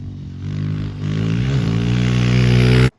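A 2021 Honda CRF125FB dirt bike engine runs close by, a steady buzzing single-cylinder drone that rises slightly in pitch as it revs, then cuts off abruptly.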